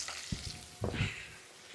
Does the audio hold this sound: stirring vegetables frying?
yes